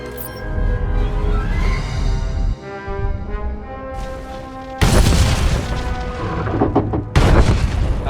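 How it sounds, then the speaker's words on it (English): Detonated charges going off in SWTOR on the planet Voss, heavy booming blasts that burst in twice with a loud onset and rumbling tail, set over a swelling orchestral score. "The charges have detonated."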